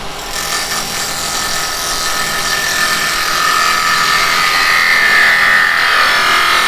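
Carbide tool cutting wooden flower petals spinning on a woodturning lathe, a steady, close scraping whir that grows slightly louder and brighter toward the end, with no talking.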